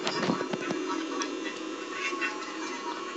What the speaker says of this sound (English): That's the sound of Chica talking